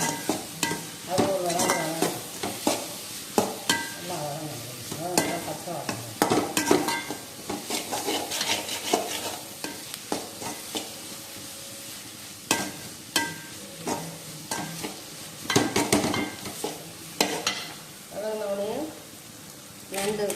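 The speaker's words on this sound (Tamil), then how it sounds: "மிளகாத்தூள் போட்டு வதக்கிட்டு" Chilli powder being sautéed for a crab gravy, heard as stirring and scraping in a pan over a soft sizzle, with frequent utensil knocks and a voice talking throughout.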